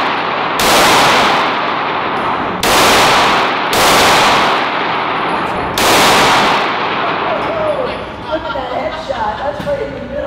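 A handful of loud, close gunshots fire one at a time at an indoor Las Vegas shooting range, each ringing out briefly, followed by people talking.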